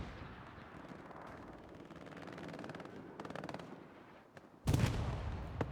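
Artillery fire in the video game Hell Let Loose: a dense rumble of distant gunfire and shelling, rising to a loud, close blast near the end, with no talking.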